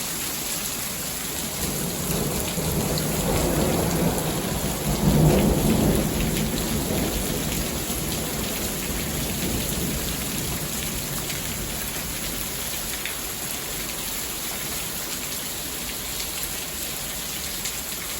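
Steady rain falls, heard from a covered porch, with a long roll of thunder building and fading in the first seconds, then an even hiss of rainfall continuing alone.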